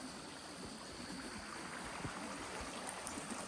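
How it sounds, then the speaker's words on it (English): Steady broadband rush of a creek flowing past a property on a foggy morning, a continuous wash of water with faint trickles and no voices. "I heard what I thought maybe it was raining or sprinkling or something, but it was just this creek"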